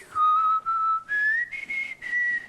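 Someone whistles a short, clear tune of sustained notes and pitch steps, close and alone with no talking.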